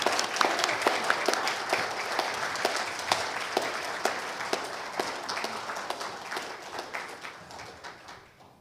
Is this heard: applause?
yes